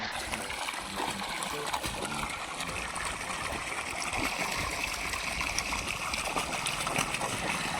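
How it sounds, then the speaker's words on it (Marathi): Steady trickling and splashing water flowing into a pit runs throughout, with faint speech and outdoor noise in the background. "वर पाणी चाललेलं आहे"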